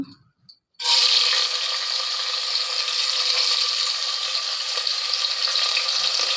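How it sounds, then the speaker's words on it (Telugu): Chopped onions hit hot oil for a mutton paya curry, setting off a sudden, steady loud sizzle after a brief quiet start, hissing on evenly to the end. "ఇప్పుడు నూనె వేడైపోయింది. ఇప్పుడు మనం ఆనియన్స్ వేసుకుందాం."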